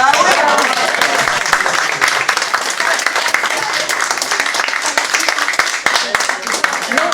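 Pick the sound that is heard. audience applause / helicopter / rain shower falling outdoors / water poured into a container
audience applause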